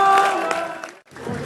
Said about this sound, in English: just pause there while they were cheering